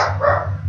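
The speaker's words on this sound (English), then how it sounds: "my dog was barking and they were banging on something" A single sharp bark from a dog indoors at home, close and fairly loud, ending abruptly.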